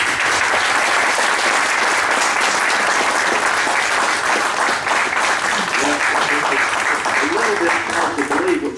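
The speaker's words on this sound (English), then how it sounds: "Let's get him a round of applause." A meeting audience breaks into sustained applause for a longtime treasurer, dense steady clapping filling the room, with a voice beginning to speak faintly near the end.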